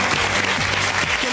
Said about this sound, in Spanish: vull rebre amb un fort aplaudiment Lorena C.